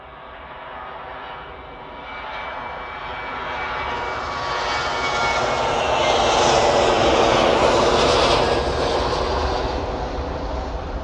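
A SunExpress airliner takes off from Manchester bound for Antalya, its engine roar building from a moderate rumble to a loud, broad sustained blast near the end, with no voices.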